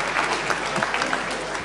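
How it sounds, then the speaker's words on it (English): Steady applause from a crowd, dense and even throughout, with a few louder claps poking through. "Another round of applause for George."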